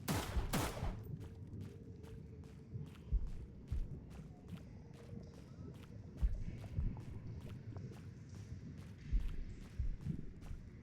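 Rapid, sharp gunfire cracks repeatedly through a Cthulhu Keeper video game battle, coming in steady bursts over a low rumbling background after one loud opening blast.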